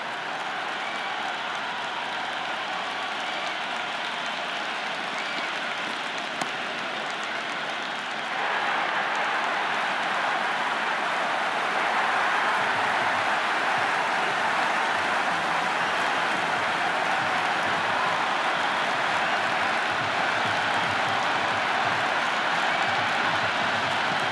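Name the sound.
stadium crowd cheering in video game Cricket 26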